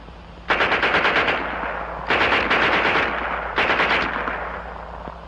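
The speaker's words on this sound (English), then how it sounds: "And here's their Schmeisser." German Schmeisser submachine gun fires three loud rapid bursts, each about a second long with short pauses between them, close and without voices.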